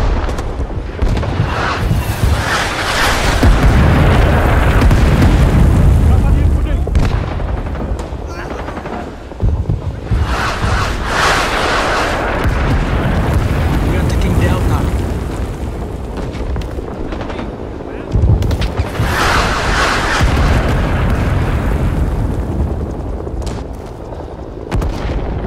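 Artillery barrage in Rising Storm 2: Vietnam, loud booming explosions and gunfire rolling in repeated heavy bursts over about 25 seconds, with voices occasionally heard beneath the battle noise.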